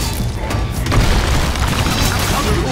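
A dense, rumbling boom and crash wash over as an unstable rift is destroyed in a survival-mode action game set on a tundra cliffside, loud and sustained with no clear individual impacts.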